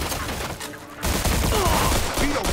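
Enemy gunfire in the video game Mafia II crackles in a dense, rapid volley of overlapping shots, loud and close, with a brief lull near the start before the fusillade resumes.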